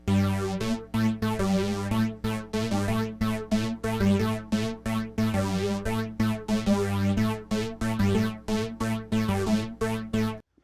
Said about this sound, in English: Then I start layering it, and I added this Juno, right?